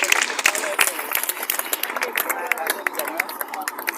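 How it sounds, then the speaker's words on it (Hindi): An audience at a school award ceremony claps for a prize giver, with dense, steady applause and a murmur of crowd noise throughout. "आप सबकी बहुत सारी तालियां होनी चाहिए सर हुमैन रशीद हबीब साहब के लिए"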